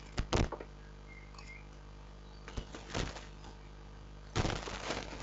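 Wooden door placed and clicking in Minecraft during a monster-trap build, heard as three short clattering taps spaced apart over a quiet background with no talk.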